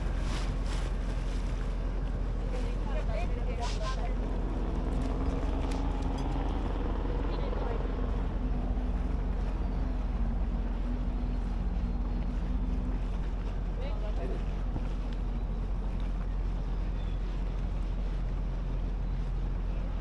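A sailboat motors away from a marina dock on the Rio Dulce, a steady low engine rumble and water wash under constant wind buffeting the microphone, with faint voices in the background.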